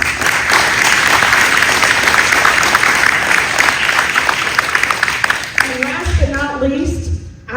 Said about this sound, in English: a round of applause for the candidates